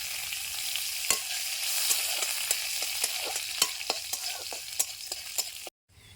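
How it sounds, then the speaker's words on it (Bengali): Nigella seeds, dried red chillies, bay leaves and chopped ginger frying in hot mustard oil, an even sizzle punctuated by a string of sharp crackles and pops, ending in a sudden cut to near silence; no speech. "তেল গরম হয়ে গেছে, পুরনে আমি দিয়ে দিচ্ছি কালো জিরে, শুকনা লঙ্কা, তেজপাতা,"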